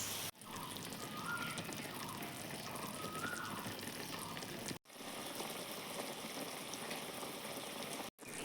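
Jujube pickle simmering in a pot, a soft continuous bubbling hiss with faint popping, quiet and steady, broken by two brief silences.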